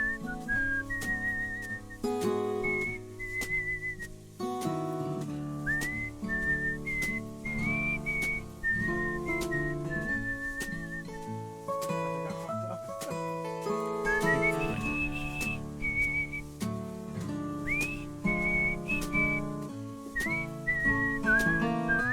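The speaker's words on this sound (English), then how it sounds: "Someone want to give me a whistle solo?" A person whistles a melodic solo over background music, clear and close for over twenty seconds, with sliding pitch changes between notes.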